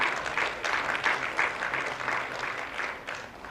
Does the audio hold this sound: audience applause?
yes